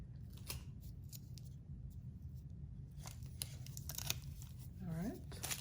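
Tape torn and handled while prepping a piping bag with a star tip for decorating sugar cookies, a few quick crackly rips and rustles close by over a steady low room hum, with a brief voice near the end.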